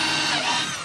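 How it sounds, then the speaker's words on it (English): Power drill pre-drilling a hole in wood for an A-frame goat playhouse, a close, loud, continuous whine with no pause, heard alone. "pre-drill one and hand this off to Emily, hopefully."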